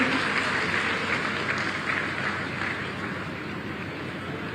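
Sustained applause from an audience at a government ceremony in Azamgarh where development projects are inaugurated and cheques handed to beneficiaries, a dense steady wash of clapping throughout.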